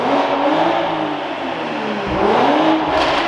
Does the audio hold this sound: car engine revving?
yes